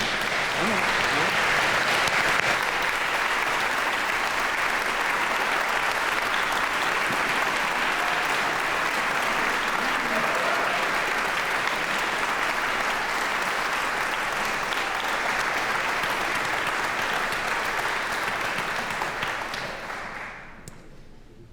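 A large hall audience at a conservatory undergraduate graduation ceremony applauds the standing graduates with sustained, dense clapping that holds steady for about twenty seconds before tapering off.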